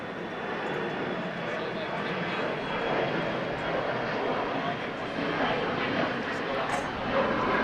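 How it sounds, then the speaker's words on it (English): A Cathay Pacific Boeing 777 from Hong Kong comes in to land at Los Angeles International, its jet engines a steady broad roar, with a voice talking over it. "Coming in on the north side is a 777"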